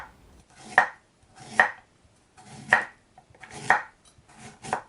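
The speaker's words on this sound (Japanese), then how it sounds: "冷凍するときは厚めに皮を剥き薄切りにしていきます。" A knife slicing thinly through peeled broccoli stems on a cutting board, five crisp evenly spaced chops, close and clear with quiet pauses between strokes.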